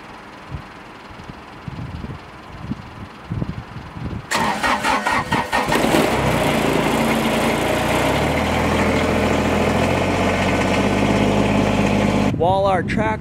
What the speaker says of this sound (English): While our tractor's warming up